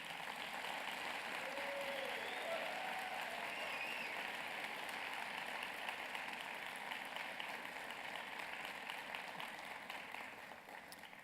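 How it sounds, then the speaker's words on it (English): Sustained applause fills a commencement ceremony hall as the audience claps for the faculty, a dense, even wash of many hands lasting several seconds before gradually thinning toward the end. "I ask you to demonstrate your appreciation by applauding the faculty."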